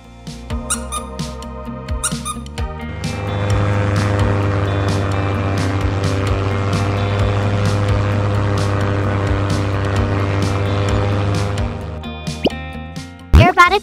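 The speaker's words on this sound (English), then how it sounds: "Crop duster." A small crop duster propeller airplane drones with a steady low buzzing hum that swells and holds, flanked by brief clicks and squeaks before and after.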